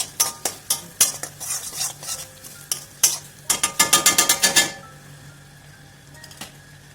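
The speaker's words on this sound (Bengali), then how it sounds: "দেখুন মশলাটা দিয়ে এটা মিশিয়ে ভালো করে" Spoon stirring chicken keema with Kashmiri chilli and spices in a pan, a run of close, sharp scraping strokes against the metal with a light sizzle beneath, quickening into a rapid burst of clatters before easing off, no voices.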